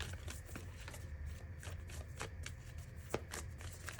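Moonology oracle cards being shuffled by hand in a quiet room, a steady run of soft papery riffles and flicks with one sharper snap near the end, fairly close and with no talking.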